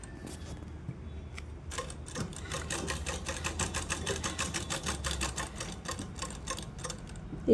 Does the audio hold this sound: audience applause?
no